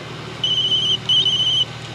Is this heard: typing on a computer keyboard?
no